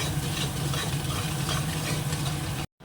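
Spice paste frying in oil in a pan, a steady dense sizzle and crackle that runs continuously and fairly loud, then cuts off abruptly at the end.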